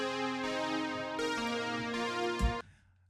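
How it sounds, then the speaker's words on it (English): A layered synth chord from a synthwave track produced in Logic Pro X rings out as a bright, sustained harmonic pad, shifting once or twice before cutting off abruptly near the end and leaving a short fading tail. "I always layer the same performance with different synth sounds."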